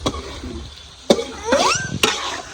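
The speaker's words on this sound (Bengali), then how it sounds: "এটা রান্না করছে ফারজানের আম্মু টমেটো দিয়ে আলু দিয়ে আর মশলা" Curry of tomato, potato and spices cooking in a pan, with sharp clanks of a spoon against the pan over a low sizzle; a voice speaks briefly nearby.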